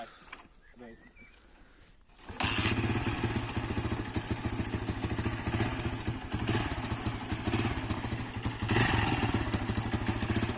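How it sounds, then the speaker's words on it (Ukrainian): A Viper MX 200 motorcycle engine starts and settles into a steady, even idle close by, running loud and continuous after a quiet opening with faint birds. "Заводиться в пше легонько, він е, навіть не треба і ручку газу додати газу, холості тримає теж чітко"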